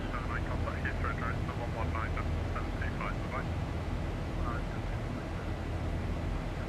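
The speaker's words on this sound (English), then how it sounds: "Good, aeroplane's climbing, we're manoeuvring solidly" A Boeing 737-800 climbing in the X-Plane 11 flight simulator gives a steady, broad engine roar that fills the whole stretch, with a voice speaking over it.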